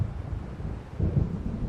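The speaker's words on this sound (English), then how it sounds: "It seems there's a storm coming." Low, rolling thunder from an approaching storm in the Alan Wake video game: a steady dull rumble that swells louder about halfway through and keeps grumbling to the end, with no voices.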